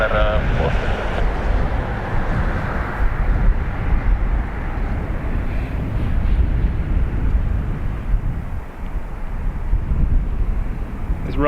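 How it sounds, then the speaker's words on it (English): Ryanair airliner taking off from Dublin Airport's runway 28, a loud, continuous roaring engine rumble with wind buffeting the microphone, sustained throughout without fading. "Ryanair is off to Stansted"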